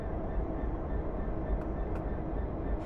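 Class 66 DRS diesel locomotive rumbling steadily while moving stock in Train Simulator 2015, a continuous low engine drone with no talk.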